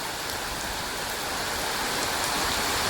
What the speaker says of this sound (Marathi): जबरदस्त पाऊस लागतोय.